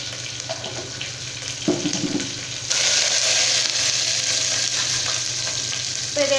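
Shallots, dried chilies and curry leaves sautéing in a pan for sambar rice give off a continuous frying sizzle. Stirring clatter comes in partway through, then the hiss grows louder and denser near the end.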